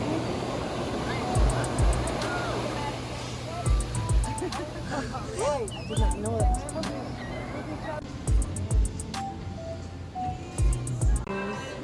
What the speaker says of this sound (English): The wave just came right over the top of the boat.